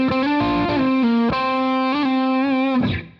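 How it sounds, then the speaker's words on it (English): Distorted electric guitar plays the intro solo of a song: a short sustained melodic phrase with slides and vibrato, loud and alone, fading out at the end. "So our intro guitar solo is going to sound like this."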